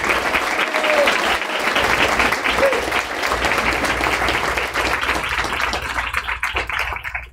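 Full, steady applause fills a school board of education meeting room, many hands clapping together at a constant level before it thins and tapers off near the end.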